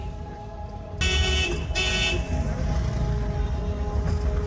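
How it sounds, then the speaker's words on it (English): Busy street traffic in Kathmandu, Nepal, with cars, motorbikes and rickshaws sharing cramped streets. A steady, loud wash of engine noise runs throughout, with bright horn toots near the start and again briefly toward the end. "It's a very busy city, with cars, motorbikes and rickshaws all sharing the cramped streets."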